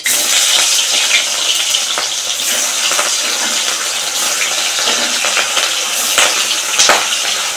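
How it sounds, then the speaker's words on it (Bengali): Fish fries in hot oil in a kadai, with water from the spatula making it spit; close, continuous crackling and sputtering with sharp pops scattered throughout. "খুন্তিতে মনে হয় জল ছিল, চটপট চটপট করছে।"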